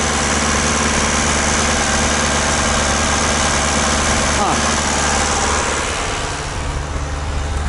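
An old engine with smoke coming off the exhaust manifold idles roughly and loudly up close, a dense steady rumble with vibration throughout, briefly broken by a short spoken remark.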